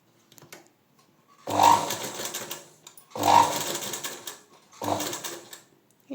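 A sewing machine stitches a dori hanging in three close, rapid bursts separated by short pauses.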